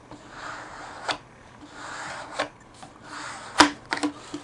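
A small squeegee rubs a paper scroll saw pattern down onto a pine board, giving soft, close scraping strokes in a loose rhythm, each ending in a sharper tap or scuff, with no one talking.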